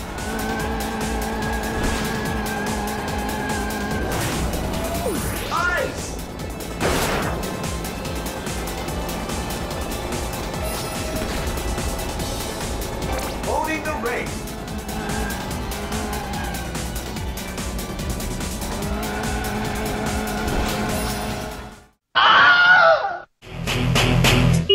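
Karts racing in a Sega kart racing video game, a busy steady whine of engines with tire squeals and game effects layered over background music, loud and continuous before cutting out briefly near the end.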